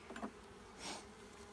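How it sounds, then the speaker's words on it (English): Honey bees hum and buzz inside a crowded hive during an inspection, a low steady drone swelling briefly louder near the middle, close and continuous with no voices. "there's so many bees in this hive"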